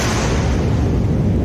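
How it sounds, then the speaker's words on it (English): Double sonic booms come as a sustained, loud low-frequency rumble with a roaring, explosive quality, steady throughout without separate distinct peaks and no voices. "Double sonic booms."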